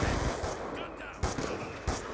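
Gunfire in Call of Duty Black Ops 2 multiplayer: a quick rattling burst of shots, then two more sharp bursts after short pauses, loud and close within game noise.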